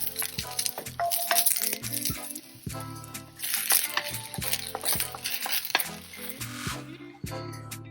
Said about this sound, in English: And now just lightly saute the greener parts.